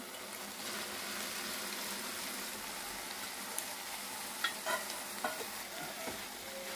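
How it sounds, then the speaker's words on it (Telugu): Boiled broad beans are stirred into a simmering tomato curry in a pan, giving a soft continuous sizzle with a few light spoon scrapes and clacks near the end, with no talking. "ఇప్పుడు మనం బాయిల్ చేసుకున్న చిక్కుడుకాయల్ని యాడ్ చేసేద్దాం"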